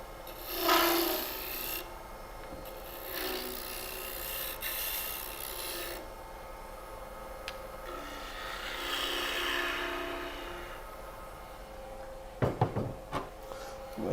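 Sandpaper rasps steadily against a spinning wooden ornament on a lathe, a continuous close scratchy whir that swells and fades, ending with a few knocks and clatters.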